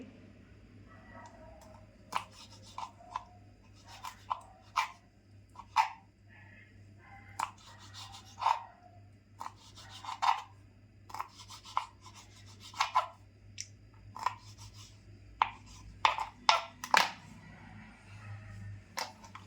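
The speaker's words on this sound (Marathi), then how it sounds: "मी कापून घेते, अशी रिंग रिंग रिंग असे कापून घेते." A knife slicing cleaned squid into rings on a board, producing a steady run of short, close chopping taps and scrapes at an even pace with no voice.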